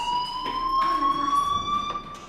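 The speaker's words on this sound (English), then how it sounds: "do you hear that fire alarm? That means you should be outside." Fire alarm ringing in the video game Life is Strange, a steady high electronic tone held throughout with faint background knocks and movement.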